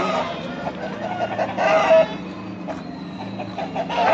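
A glass-type (gaju) rooster and other chickens cluck and crow amid the steady din of the Pileru chicken market, with a few louder calls rising briefly above the crowded background.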